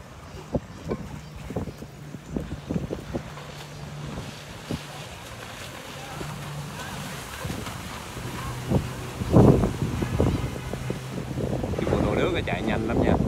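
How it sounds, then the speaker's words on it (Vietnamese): A jet ski tears across the water in a Tet military-civilian boat parade in Phong Dien, its motor and spray rising under wind buffeting, with a louder surge near the end and someone talking intermittently over it. "Mô tô nước chạy xé nước."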